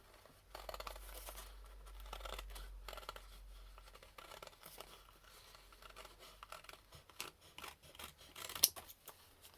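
Scissors snip and slice through card for a junk journal, a series of crisp, close cuts and rustles that rise and fall irregularly, with a sharper snap near the end and no voices.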